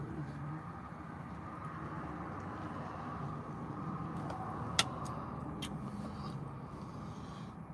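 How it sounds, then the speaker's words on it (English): Road traffic rumbles steadily behind a person streaming live outdoors at night, a continuous low drone of passing cars with a sharp click midway and a few faint ticking sounds, no talking. "So much traffic happening behind me."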